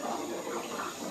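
In a kitchen, water pours into a container as a steady rushing splash, close and continuous for just over a second, without talk.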